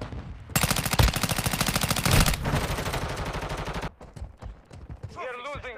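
Rapid automatic gunfire from a Warzone Mobile match rattles loudly in sustained bursts for about three seconds, then scattered shots and a brief game voice line follow.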